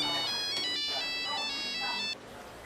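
A phone ringtone plays a repeating electronic melody that cuts off abruptly near the end, with faint voices in the background.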